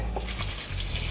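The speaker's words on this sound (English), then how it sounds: "And then we'll be topping that up with some water." Water pours continuously into a clean pot holding rinsed baobab for kuka juice, a steady close gush with no talking.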